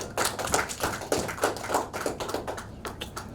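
Applause from the audience at a training program launch and award ceremony, a dense run of hand claps with uneven bursts, fairly close and loud, with no voices over it.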